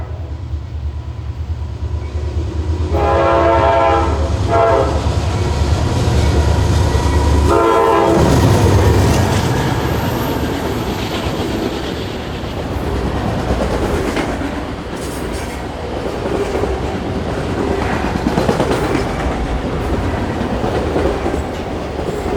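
A General Electric Dash 9-40C diesel locomotive leads a freight train through Fleetwood on the Reading Line, sounding repeated horn blasts early on before its engine roar and rolling wagons continue loudly and steadily up close.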